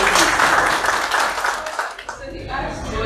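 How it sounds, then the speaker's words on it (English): An audience at a blockchain data talk claps in a continuous, fairly loud burst that thins out toward the end, with some speech mixed in. "Please clap for her."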